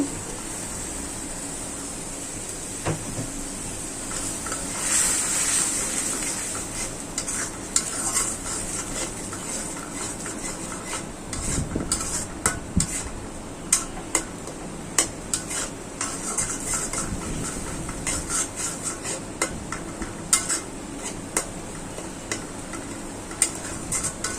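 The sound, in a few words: stir-frying masala with shrimp in a pan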